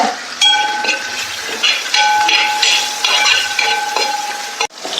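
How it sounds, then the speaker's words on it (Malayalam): Curry leaves and chopped small onions fry in a pan for Kerala coconut rice with beef, a loud continuous sizzle with ringing metallic scrapes and knocks of a spoon stirring against the pan. "കറിവേപ്പില ഇട്ട് കൊടുക്കുക അപ്പോൾ നന്നായിട്ട് മൂത്ത് വരട്ടെ"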